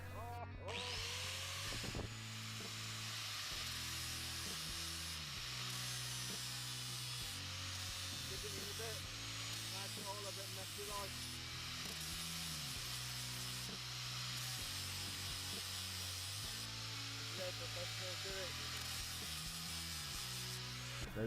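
An angle grinder works on the crown of a rifle barrel, a steady high whine broken by short pauses and pitch shifts as the tool is repositioned, continuing for a long stretch without talk.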